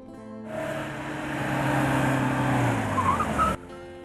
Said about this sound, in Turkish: Acı çeken asfalt sesi.